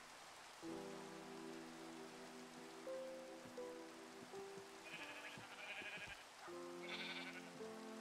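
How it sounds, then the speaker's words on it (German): Small sheep bleat in the Minecraft modpack FTB Revelation: several short bleats come in bursts over a steady rain-like background hiss, at moderate level with no speech. "Ach, das ist das kleine Schaf."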